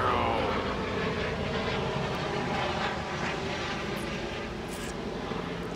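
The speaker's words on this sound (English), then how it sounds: "there's a helicopter flying by" A medevac helicopter passes near a hospital and executive airport, its steady broad rotor and engine roar filling the whole clip, loud at first and easing slightly as it moves along.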